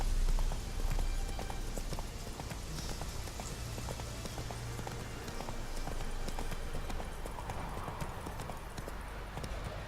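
Hooves of Roach, Geralt's horse in The Witcher 3: Blood and Wine, clip-clop in a brisk, steady rhythm over a constant rain-like wash, moderately close and continuous throughout.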